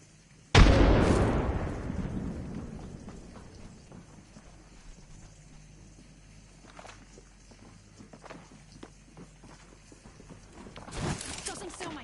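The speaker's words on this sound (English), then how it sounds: "Tossing a grenade." Grenade explosion in a battle royale shooter, a single loud boom with a long rumbling decay, then quieter game ambience and a second burst near the end.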